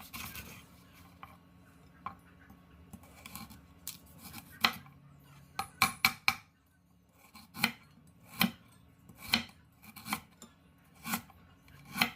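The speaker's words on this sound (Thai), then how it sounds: "สำหรับตะไคร้ก็ทุบและหั่นเป็นท่อนๆเลยค่ะ" Sharp knife chops lemongrass into pieces on a cutting board, scattered at first and then settling into a steady rhythm of single strikes, close and fairly quiet.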